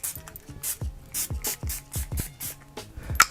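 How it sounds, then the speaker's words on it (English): Several short hissing bursts of a rose gold facial mist spray onto a face, repeated in a quick irregular rhythm, close and clear, with faint clicks of the pump between. "we're going to go in with the Farsali Rose Gold Skin Mist. I'm just going to spray that on my face to begin with."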